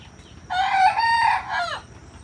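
A rooster crows once, loud and close, a drawn-out call rising and then trailing off, with faint low clucking and background noise around it.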